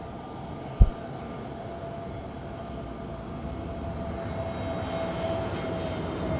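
A fixed-wing aircraft lands at Madeira Island Airport in strong wind, a steady distant engine rumble with a faint whine, one sharp thump early on, no voices.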